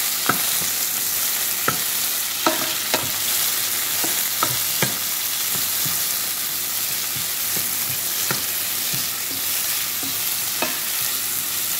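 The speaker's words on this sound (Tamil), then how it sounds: "தக்காளியை போட்டு அதையும் கொஞ்சம் நல்லபடியாக வதக்கி எடுக்க வேணும்." Tomatoes sauté in a pan for a bitter gourd curry, making a steady close sizzle with sharp intermittent clicks and taps of a utensil stirring against the pan.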